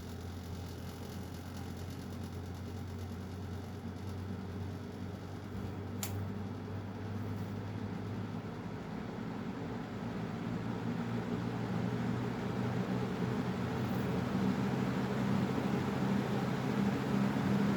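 A Lasko 3733 box fan runs steadily close by, its motor hum and airy whoosh holding constant and swelling slightly toward the end as it keeps gaining speed.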